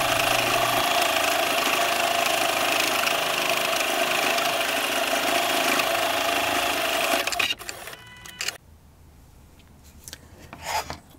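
An embroidery machine, sped up, stitching out cloth doll hands: a dense, continuous buzzing rasp for over seven seconds, then it stops, leaving faint handling sounds and quiet background.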